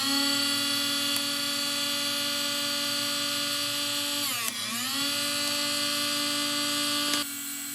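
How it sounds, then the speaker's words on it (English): A small power saw clamped to a workbench cutting small pieces whines steadily at a high pitch. Its tone sags briefly midway as it bites into the material, then recovers. Loud and close. "the saw does a great job for small pieces like this"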